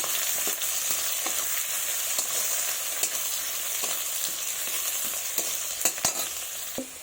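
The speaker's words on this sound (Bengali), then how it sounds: "রসুন কোড়া, এগুলোকে ভালোভাবে একটু লাল লাল করে ভেজে নেব।" Garlic cloves and chopped onion frying in hot oil give a continuous close sizzle with faint scattered clicks, steady and without talk.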